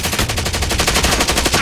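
Rapid automatic gunfire in Call of Duty: Warzone, a loud close burst of evenly spaced shots firing continuously for the whole moment.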